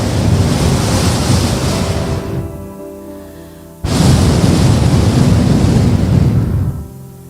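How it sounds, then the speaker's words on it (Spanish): Sea waves rolling onto the shore in two long, loud surging rushes with a brief quieter lull between them, close by and mixed with wind buffeting, no voices. "Imagínate este mar que tenemos enfrente."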